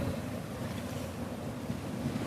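Steady rush of wind and churning sea water around a boat in strong waves off Taqah, a continuous roaring wash with no voices.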